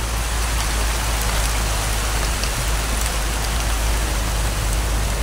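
Steady heavy rain in a horror video game pours as a dense, even hiss throughout, with no voices.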